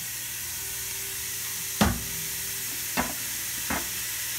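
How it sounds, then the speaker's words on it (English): Onions, Vidalia and red, sizzle in a hot pan with wine under a steady hiss, broken by three sharp stirring clatters spaced a second or so apart, close by, with no speech. "the first thing we add is the onions"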